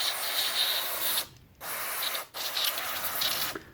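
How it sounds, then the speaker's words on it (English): Cleaner hisses from an aerosol can onto the turn signal switch contacts of a 2000 Toyota Sienna, a steady close spray broken by two brief pauses and then resuming. "I'll spray it one more time."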